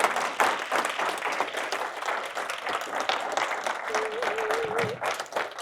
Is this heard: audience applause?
yes